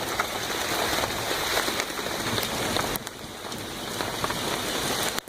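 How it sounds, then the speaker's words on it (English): Steady rain pours down during a rainstorm, a dense continuous hiss of drops hitting surfaces, close and loud throughout with a brief dip midway. "Go out and play in the rain, kids."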